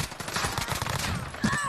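Rapid gunfire in a video game rattles in a quick burst of overlapping shots, fairly quiet and dense, with game sound effects around it.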